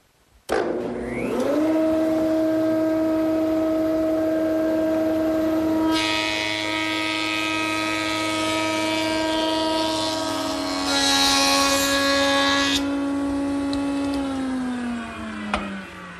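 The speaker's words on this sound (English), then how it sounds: "Now we'll just lower the machine and make a pass on the back side." A woodworking thickness planer starts with a rising whine, settles into a steady harmonic hum, then roars louder and harsher for several seconds as it planes the back side of a board, before spinning down.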